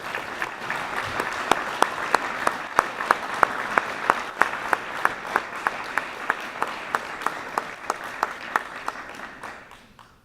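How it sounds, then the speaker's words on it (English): Audience applause for the Union City Country Club members at a chamber dinner awards banquet, a steady wash of clapping with sharp individual claps standing out, sustained for about nine seconds before tapering off. "Can we give a round of applause for the folks at Union City Country Club?"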